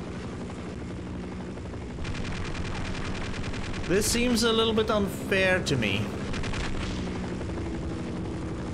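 An attack helicopter in the video game Half-Life, a steady rotor drone with bursts of machine-gun fire and impacts in the middle, while someone comments over the action.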